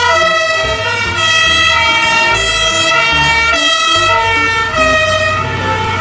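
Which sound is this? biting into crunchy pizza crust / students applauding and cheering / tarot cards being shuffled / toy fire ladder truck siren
toy fire ladder truck siren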